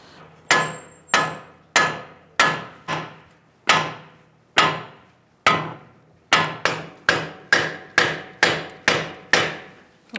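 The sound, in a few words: sledgehammer striking steering knuckle on Ford Taurus strut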